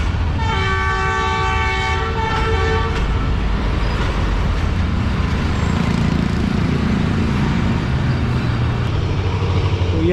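The Allama Iqbal Express rolls along at restricted speed near Malir, a steady loud rumble of wheels and carriages with a sustained horn blast early on, heard from on board.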